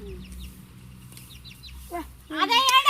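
Brief, faint high peeps from a chick sound over a quiet background. Near the end, louder clucking and squawking from a chicken on a farm plot break in.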